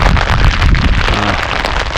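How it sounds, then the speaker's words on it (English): Steady broadband hiss of rain, close and continuous, with no voices over it. "So far my clothes have kept the rain mostly off of me."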